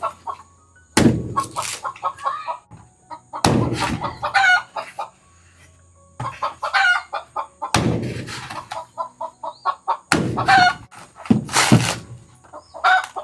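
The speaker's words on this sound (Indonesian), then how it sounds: "Seperti biasa ayam mama mertua berkokok-kokok ya." A rooster and other chickens at a family home crow and cluck in several loud, close bursts spread across the stretch, with quieter clucking in the gaps between them.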